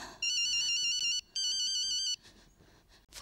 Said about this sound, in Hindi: pick up the dam phone Shekhar,